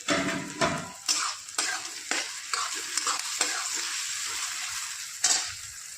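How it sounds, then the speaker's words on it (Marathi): Onion sautéing in a pan for Maharashtrian street-style pav bhaji, with steady frying sizzle and repeated scraping spatula strokes against the pan, close and fairly loud, with no talk. "एक 2 मिनिटं कांदा परतला की लगेच आपण यात ढोबळी व टोमॅटो टाकू"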